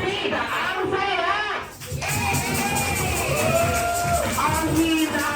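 At a surprise 81st birthday celebration in a Jollibee restaurant in Cavite City, a crowd cheers and shouts yay. Excited voices and children's yells overlap throughout, with a brief dip partway through before the cheering swells again.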